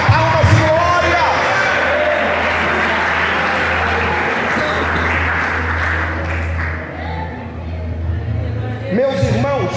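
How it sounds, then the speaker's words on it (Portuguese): Church congregation applauding loudly and steadily, dense clapping with cheers mixed in over a low hum, fading slightly before a burst of renewed clapping near the end. "Mas aplauda forte dando glória, mais forte: palmas e glória, palmas e glória."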